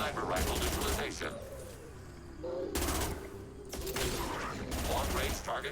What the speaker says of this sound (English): Sniper rifle neutralization.